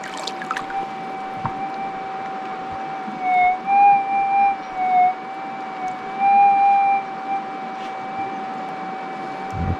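Steady electronic metal detector tones hold at two pitches throughout, warbling and swelling louder in the middle, with a brief scrape near the start, on a riverbank of clay.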